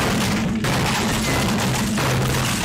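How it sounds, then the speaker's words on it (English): A streamer's desk setup collapses piece by piece like falling dominoes during a Counter-Strike session, producing a loud, continuous crashing clatter with a sharp break partway through. "Motherfucker's whole setup collapsed."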